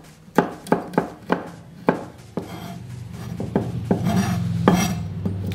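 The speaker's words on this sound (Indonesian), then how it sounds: "Kemirinya saya potong dulu." Candlenuts are cut with a knife on a board, a run of sharp close chopping knocks in an uneven rhythm that loosens into softer scraping and rubbing.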